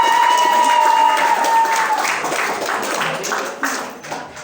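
A studio audience at a television competition applauds a team advancing to the final, clapping that swells then thins out over a few seconds after a sustained tone fades.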